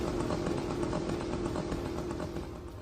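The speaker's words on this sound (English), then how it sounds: "in this modern battlefield you will be hearing a two-stroke moped buzzing in the air" A Shahed drone's small two-stroke engine buzzes like a moped, a loud, steady, droning whine that holds unbroken for the whole stretch with no voices.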